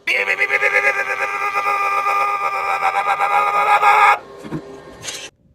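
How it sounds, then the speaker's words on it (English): An engraving laser works on the back glass of an iPhone 13 Pro Max during repair, giving a steady, close, buzzing whine with dense rapid pulsing for about four seconds before stopping, followed by a few brief clicks. "we'll stick it in the laser for round 2"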